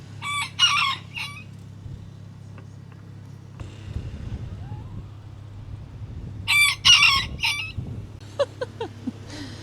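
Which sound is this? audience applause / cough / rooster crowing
rooster crowing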